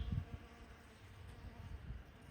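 A bee buzzes among blooming garden flowers, a faint low hum that rises and falls at a slight distance with no one talking.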